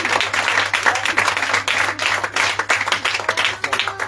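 A church congregation claps and cheers in praise of Jesus during a sermon, dense steady applause filling the whole stretch over a low electrical hum.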